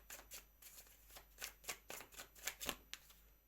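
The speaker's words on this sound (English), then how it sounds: "I just want to get one more card for Monday." Tarot cards being shuffled and drawn, a run of crisp riffling bursts repeating at a steady rhythm, close and quiet, with no voices.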